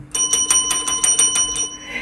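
A bright notification bell rings in a quick series of clear, evenly spaced metallic dings, close and fairly loud, fading out at the end with no talking over it.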